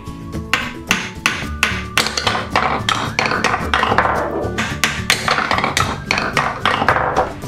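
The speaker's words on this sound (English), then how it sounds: "Let's watch the yellow ball go down when I hammer." Rapid plastic tapping and knocking as a toy hammer pounds balls down a pounding toy, a steady string of light hammer blows with small clinks, close by and without speech.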